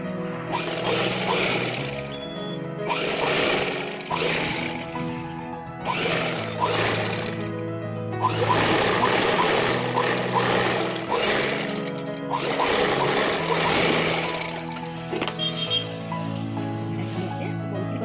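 A domestic sewing machine stitches a silk saree being converted into a long frock, running in repeated bursts of steady mechanical whirring separated by short pauses, moderately loud and close.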